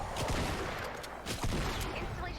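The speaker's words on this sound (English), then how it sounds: "Let's fire off my shots." Several gunshots fired in Fortnite Save the World, spaced apart with sharp transients over a busy game background, fairly faint overall.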